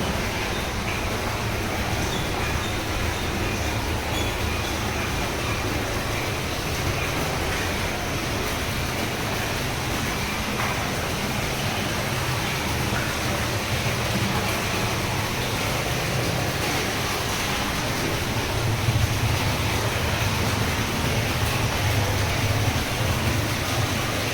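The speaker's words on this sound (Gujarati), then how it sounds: "અત્યારે જમીન ઉતરી છે એટલો દરેડો બોલે છે જોવો" Water gushes steadily into a newly dug well from a borehole, a constant broadband rushing splash that holds unchanged from start to finish with no voices.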